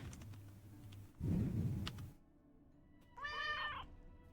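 A cat meows once, a clear rising-and-falling call near the end, following background game sounds and a noisy rustle.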